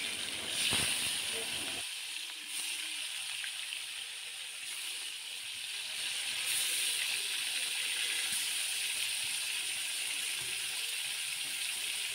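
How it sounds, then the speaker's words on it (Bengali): Fish frying in a pan gives a steady, bright sizzling hiss that runs unbroken for about twelve seconds, with no speech over it. "এদিকে আগে মাছটা ভেজে নিচ্ছি"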